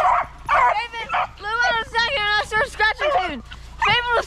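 Beagle dogs at a snowy winter campsite bark, yip and whimper close by in a rapid, excited string of high, wavering cries with only short gaps.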